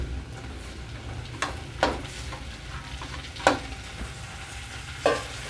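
Curry leaves, green chillies and tomato sizzle steadily in hot oil, with a few sharp spatula scrapes and stirring knocks spaced through the frying; no one speaks.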